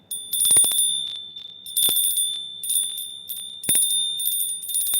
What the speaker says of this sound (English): One last bell.